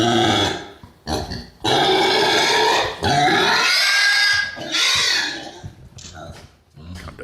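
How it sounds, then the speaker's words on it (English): A man eating makes loud, high, squealing vocal noises much like a pig, in repeated bursts with short gaps between them, close to the microphone. "he makes these sickening, squealing noises comparable to a pig giving birth"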